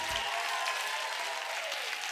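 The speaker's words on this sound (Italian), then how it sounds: "come prima, applauso fortissimo" A stand-up comedy audience bursts into loud, dense applause, a short and unbroken wash of clapping.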